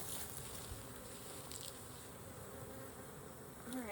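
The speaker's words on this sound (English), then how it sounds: "Oh, we got us a carpenter bee or a bumblebee or something." A carpenter bee or bumblebee buzzes around an open beehive during an inspection, a faint continuous drone with a brief closer pass near the end.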